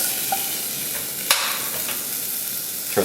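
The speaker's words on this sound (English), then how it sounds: "I'm just going to stir up the carrot." Carrots saute in butter in a pan, a steady close sizzle with a few scrapes and clinks from a stirring utensil.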